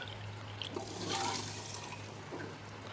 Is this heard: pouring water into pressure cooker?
yes